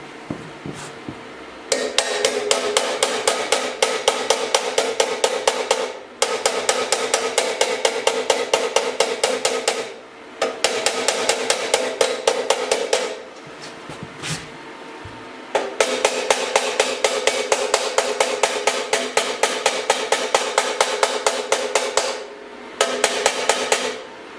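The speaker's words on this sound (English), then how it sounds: "Get me a little tiny hammer out." A small hammer taps rapidly on the metal of a handmade exhaust for a BSA B50 motocross motorcycle, close and loud, coming in long bursts of quick ringing strikes with short pauses between them.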